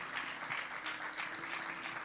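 A church congregation applauds in a steady, dense wash of clapping heard at a distance, fairly faint and continuous throughout.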